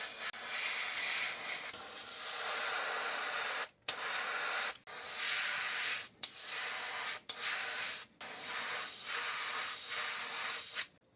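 Short bursts of an aerosol spray can hiss as iridescent silver paint goes onto a carved wooden hickory shad crankbait lure, several sprays separated by brief pauses, close and fairly soft.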